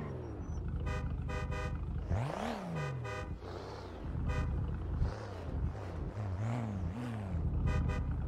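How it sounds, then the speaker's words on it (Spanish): Car horn honking in the video game GTA, several short repeated toots in quick bursts over a running engine and a revving, swooping vehicle sound, fairly loud and near. "Toca bocina, toca bocina."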